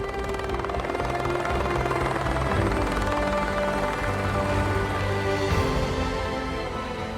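A helicopter drones steadily with a rapid chopping thrum, moderately distant and fairly faint, holding a constant level throughout.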